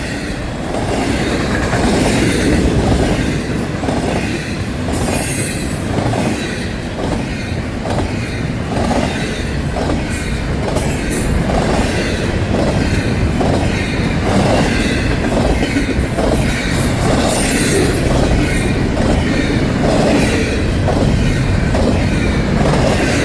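A Florida East Coast mixed freight train rolls past near Fort Lauderdale, loud and close, with a steady rhythmic clickety-clack of wheels over rail joints throughout and occasional squeals. No one speaks.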